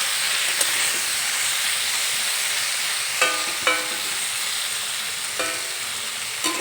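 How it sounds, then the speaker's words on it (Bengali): Bitter gourd and potato curry sizzles steadily in a pan, a constant frying hiss broken by a few soft clinks of a spatula scraping and stirring, close up with no talking. "5-6 মিনিট পর ঢাকনা তুলে একটু নেড়ে চেড়ে নিলাম।"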